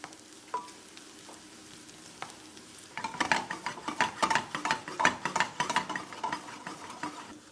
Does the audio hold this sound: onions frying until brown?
yes